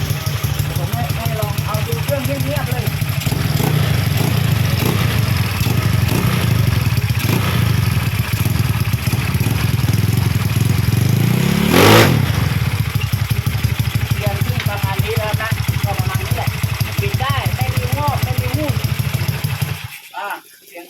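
A 2018 Yamaha Fino scooter idles close by with a steady clattering putter, briefly revving around the middle before settling back and cutting off near the end, while someone talks over it.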